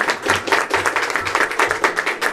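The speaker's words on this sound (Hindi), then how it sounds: "जोरदार तालियां फिर आपके जिंदा के नाम के लिए।" Loud rhythmic clapping from a church congregation at a Hindi-Urdu sermon, many hands striking in steady quick beats, near and full over a low hum, with no speech.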